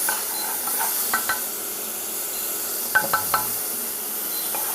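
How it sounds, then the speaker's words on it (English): Butter melting in a pan for a béchamel sauce gives a steady, even hiss of sizzling with a few faint clinks and scrapes of a utensil, close and continuous, no voices. "So let's get the bechamel on. So we're going to put some butter in there."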